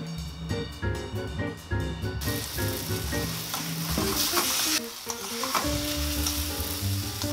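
Spices sizzle and crackle loudly in hot oil while being stir-fried for a spice curry, a dense, continuous frying hiss with stirring scrapes throughout.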